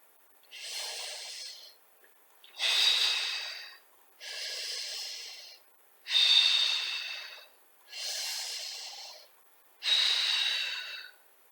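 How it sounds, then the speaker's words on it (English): Steady, forceful breaths alternate in and out during a Pilates leg exercise, six evenly spaced breaths about two seconds apart, close and clear against silence. "extend the leg, inhale, exhale, inhale, exhale, inhale, exhale"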